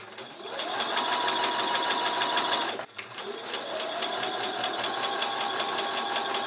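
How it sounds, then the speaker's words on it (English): A sewing machine runs steadily, stitching a seam on a Millie dress with a fast, even mechanical whir. The motor stops briefly partway through, then starts again and keeps running. "Let's take this to the sewing machine."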